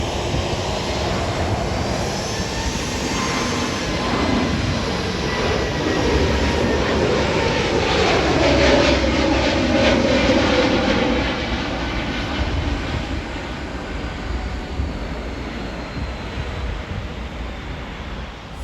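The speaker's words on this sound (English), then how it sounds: "Our first departure is Spirit Airlines departing to Las Vegas on an Airbus" A Spirit Airlines Airbus A320 jet takes off at Burbank bound for Las Vegas. Its engines build into a loud, sustained roar with a rising whine, peak near the middle, then slowly fade as the aircraft climbs away.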